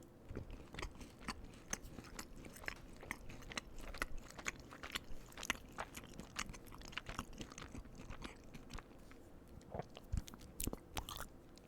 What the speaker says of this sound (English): Do like one more bite real quick.